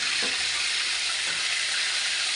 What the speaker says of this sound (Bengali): চটপট চটপট করছে। তাই মাছগুলো এবার ভেজে নেবো ভালো করে।